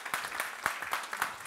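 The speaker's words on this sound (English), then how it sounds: "applause." Audience applause at a panel discussion on aid and the changing environment, a short burst of scattered, moderately loud claps from a seated crowd in a hall.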